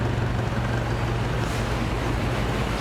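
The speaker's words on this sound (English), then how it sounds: "All the water spewed out from the exhaust system." Water spewing from an engine's exhaust system makes a steady, loud rushing noise that carries on without a break, with no voices.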